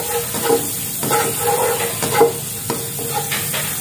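Shallots and garlic sautéing in a pan for sweet-and-sour gourami: a close, steady sizzle with rhythmic scraping and clinking of a spatula stirring the pan, no talk.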